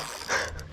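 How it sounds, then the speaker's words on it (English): Fishing reel drag clicking in a fast ratcheting burst while a flathead fights on the line, close and fairly steady, swelling briefly in the middle. "My drag's loose, but it's not Hollywood drag."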